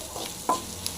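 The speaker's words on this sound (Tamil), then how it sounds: "நல்லா ஃப்ரை ஆகட்டும்." Chopped banana stem stir-frying in a pan for a Tamil-style perattal, a soft sizzle with one brief scrape of the spoon, quiet and close with no voices.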